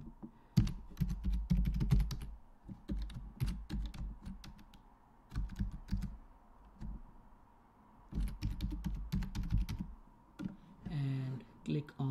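A project name is typed on a computer keyboard in several close bursts of quick key clicks separated by brief pauses, with light mouse clicks near the end.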